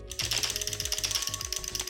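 A SwitchBot K10+ robot vacuum cleaning while its front bumper switch clicks, producing a rapid run of sharp, close mechanical ticks over the steady whir of the motor.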